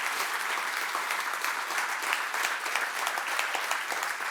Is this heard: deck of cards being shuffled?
no